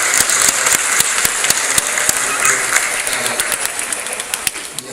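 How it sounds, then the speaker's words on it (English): Audience at a distributor launch celebration event applauding, loud dense clapping with sharp individual claps standing out, gradually easing off toward the end. "Give Asher another round of applause"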